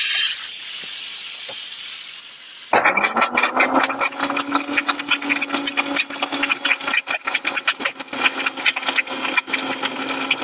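Electric mixer grinder shredding coconut into flakes for a Chettinad kavuni rice sweet, a quiet hum that jumps into a loud, rattling, rapidly pulsing whir and runs steadily up close.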